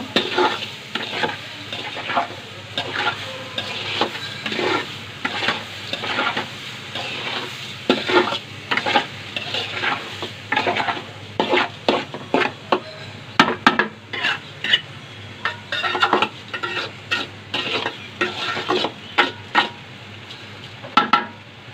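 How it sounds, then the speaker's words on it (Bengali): Rice stir-fried in a pan for fried rice, a steady sizzle broken by repeated scraping, clattering strokes of a spoon against the pan, close and fairly loud, with no talking. "চাল ভাজার মানে কষানো যেটাকে বলে"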